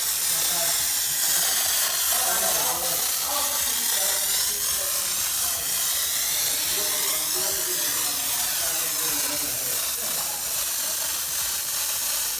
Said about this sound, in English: the Poorboy's World concentrate is really getting along with the IK foamer, producing some real nasty foam